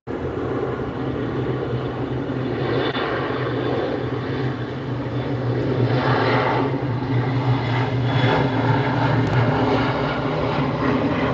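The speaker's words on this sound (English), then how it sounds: "Enjoy the takeoff from the E-175." An Embraer E-175 airliner takes off at SNA on a foggy day, its jet engines building into a loud, sustained roar that swells steadily over several seconds.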